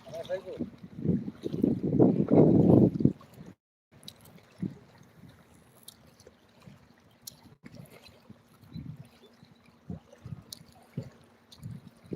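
A boat passes on the Padma river, starting as a close, loud rush of engine and water that stops abruptly, then fades to faint wind and water noise with scattered soft knocks.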